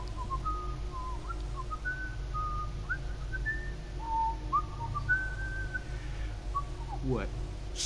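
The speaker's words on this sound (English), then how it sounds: "Whistle" A character in Marvel's Guardians of the Galaxy video game whistles a short wandering tune, thin and clear, over a low constant game ambience.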